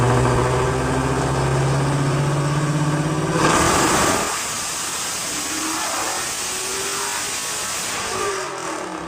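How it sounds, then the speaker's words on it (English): A burned and rebuilt Dodge Challenger SRT Demon, rated around 840 hp, runs on a dyno. Its loud engine drones steadily for the first few seconds, then cuts and rises again in repeated revving sweeps under broadband roar. "He takes the car on the dyno to measure its power."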